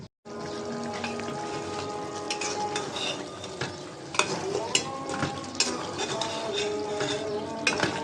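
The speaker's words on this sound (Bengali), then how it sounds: "গোষ্ঠটা একটু নাড়াচাড়া দিয়ে দিলাম" Beef curry with potatoes, thin gravy, being stirred in a pot on the stove: continuous scraping and clinking of a spoon against metal over a steady simmering sizzle, with sharper knocks now and then, close and moderately loud.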